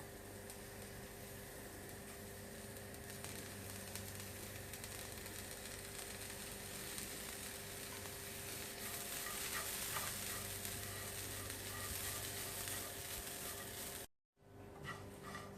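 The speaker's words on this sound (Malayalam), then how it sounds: "ഇത് ഞാൻ മീഡിയം തീയിലാണ് വെച്ചേക്കുന്നത്. ഇത് കരിഞ്ഞു പോകാൻ പാടില്ല. നമുക്ക് ഇളക്കിക്കൊണ്ടിരിക്കാം." Curry leaves frying and being stirred in a pan over medium heat for a Kerala-style roasted-coconut yam curry, giving a steady close sizzle with scraping stir sounds throughout and a brief dropout near the end.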